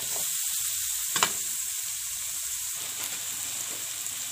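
Onions sizzle steadily in a hot frying pan for homemade Egyptian-style sausage, a constant close hiss with one brief stir or clatter near the middle and no talking.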